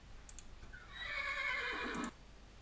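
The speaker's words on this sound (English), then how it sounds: "There's a horse. Can I do it with the horse?" A horse in Minecraft gives a single clear whinny lasting about a second, loud and close, over a quiet background with a couple of faint ticks before it.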